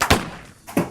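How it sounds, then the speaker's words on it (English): A stretchy Goo Jit Zu toy lands with two dull thuds close by, separated by a short pause, and no one talks. "Oh, that was a thud. You hear that?"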